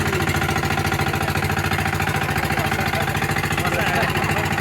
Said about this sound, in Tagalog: Nakasakay tayo ng bangka.